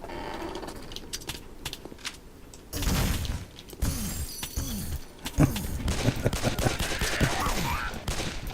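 Rapid weapon fire in the first-person shooter Possessed, rattling bursts and booming shots over several seconds, loud and close, with game sound effects filling the gaps.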